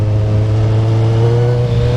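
A 2013 Kawasaki Z1000 with a slip-on exhaust revs hard, its loud, steady engine drone holding a strong low tone throughout.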